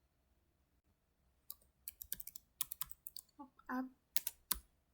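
Quick bursts of keystrokes on a computer keyboard as network commands are typed in a switch configuration lab, with irregular clusters of clicks close by and a voice speaking briefly among them.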